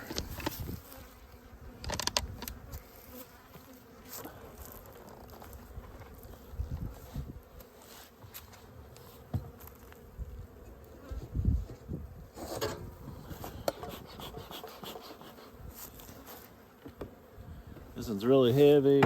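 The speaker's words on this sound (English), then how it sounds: "Ton of bees. Look at all them bees." Honey bees crowd a heavy winter beehive, giving a soft, steady buzzing hum that carries on throughout, with a few louder bumps and brief handling noises.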